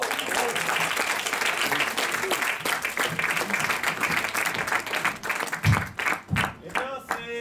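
Audience applause at an improv comedy show in Paris, dense clapping that thins out toward the end as a voice begins speaking over it.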